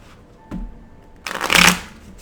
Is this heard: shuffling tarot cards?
yes